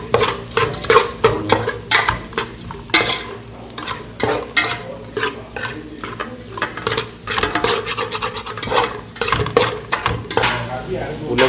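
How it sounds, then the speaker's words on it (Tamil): Three potatoes being stirred in a pan for a Tamil-style potato and beetroot poriyal, with a steady run of scraping strokes and a soft frying sizzle close by, while speech is heard at times. "3 உருளைக்கிழங்கு போட்டு கிண்டிடுறாங்க."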